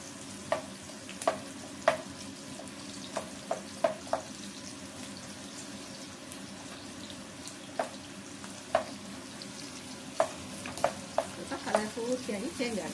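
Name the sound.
onions frying and being stirred in a pan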